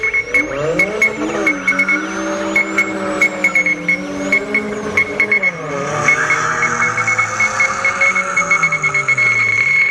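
BMW E30 cabriolet with a two-litre 129 hp engine racing, its engine revving loud and close with pitch sweeping up and down through gear changes, tyres squealing at times.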